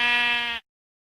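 A single sheep bleat from Minecraft Java Edition, a clear, close, tonal baa lasting about half a second before cutting off abruptly into silence.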